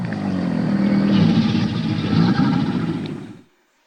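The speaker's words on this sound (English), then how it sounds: "if they had a croc-like sound organ, they might sound like this" Imagined dinosaur call voiced through a crocodile-like sound organ: a deep, rumbling roar that holds steady and loud for about three and a half seconds, swelling slightly midway before cutting off abruptly.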